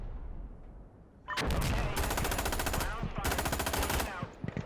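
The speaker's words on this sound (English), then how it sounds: "I was just shooting at his whole team" Rapid automatic gunfire in a first-person shooter match, loud sustained bursts with a short pause between them, then a few isolated shots at the end, alone with no talking.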